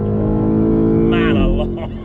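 BMW M5 Touring engine under full throttle, a loud, deep V8 roar rising sharply in pitch over two seconds, with a brief burst of higher-pitched whine as it climbs.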